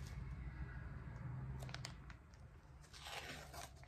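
Wax paper wrapped around a cake is torn and crinkled open, producing soft crackling and tearing rustles in short bursts, close and quiet.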